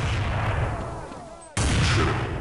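A loud, dense burst of gunfire in Counter-Strike 1.6 with a sharp, booming onset, heavy and continuous, dropping off briefly before another blast hits.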